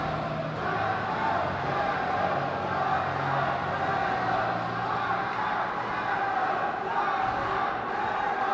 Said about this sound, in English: Georgia crowd supporters going a bit nuts there